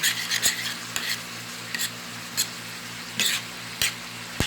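Ground pork sizzles quietly in a frying pan while a spatula breaks it up. Quick scraping strokes and clinks against the pan come in a loose, repeating rhythm.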